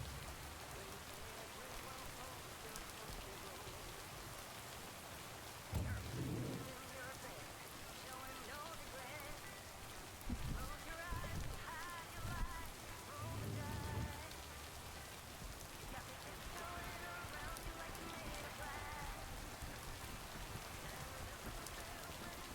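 Steady rain pattering on surfaces in the video game Lake, with a few low rumbles of distant thunder rolling in briefly and no talking.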